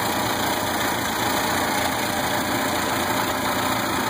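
A car engine idles steadily, a continuous rumbling drone with a high whine on top, close and fairly loud, with no talking.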